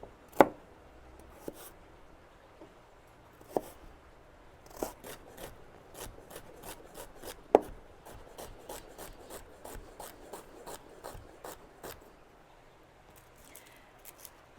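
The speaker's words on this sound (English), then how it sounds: "Now we've got 3 stalks of celery. We're going to finely chop them." A knife chops celery stalks finely on a cutting board in a run of quick, crisp taps. It starts with a few scattered strikes, then settles into a steady, even rhythm, close and clear against a quiet background.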